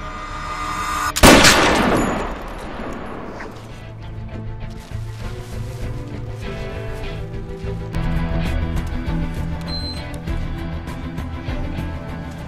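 Gunfire from the action film The Blade erupts in a loud burst, followed by a dense mix of impacts, crashes and a tense film score.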